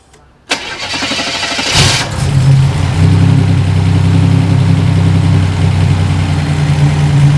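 Car engine cranking for about a second and a half, then catching and settling into a loud, steady rough idle.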